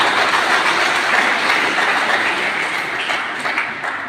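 An audience applauds at a Maulid Nabi gathering at IAIN Ternate. Dense, loud, continuous clapping fills the whole stretch without pause.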